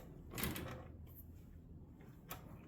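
Drawers of a tool chest in a home shop slide open, a faint, brief rolling scrape with a metallic rattle, followed by a quieter second clack.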